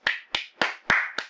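Five slow, evenly spaced hand claps from a single person, close and crisp, each sharp smack ringing briefly into a quiet room.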